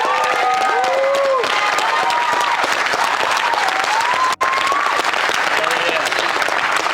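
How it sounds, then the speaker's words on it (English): Wedding guests applauding at a reception, loud sustained clapping with cheers and whoops rising over it, a brief dropout midway. "So let's give a round of applause to that."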